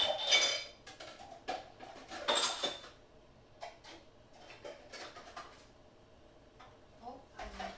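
Metal pots, pans and lids clank and scrape in a kitchen as someone rummages for a lid, with sharp clatters in uneven bursts and quieter shuffling between them.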